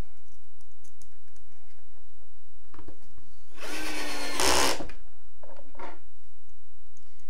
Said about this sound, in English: this is a Drill Master, a Harbor Freight screw gun